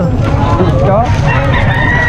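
A rooster crows amid a noisy flock of clucking chickens at an animal market in Malasiqui, Pangasinan, Philippines, with someone speaking briefly close by.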